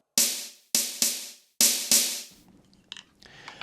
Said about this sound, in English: made it so that this pad is only reading the rim shot sample instead of the center sample